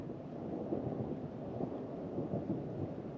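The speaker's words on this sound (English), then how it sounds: "It's a different type of thunder." Continuous low rumbling thunder with a crackling texture, steady and unbroken, heard outdoors in Arizona under a wash of broadband noise.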